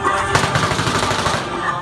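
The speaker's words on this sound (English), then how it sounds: "a burst of automatic gunfire." A rapid burst of automatic gunfire at an Imran Khan political rally crackles loudly and keeps going through the whole clip, with crowd noise mixed in.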